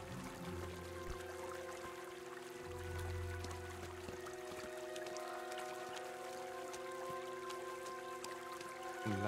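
Flowing river in Kingdom Come Deliverance, a soft continuous rush and trickle of water, faint and steady under a low sustained hum, with no talking.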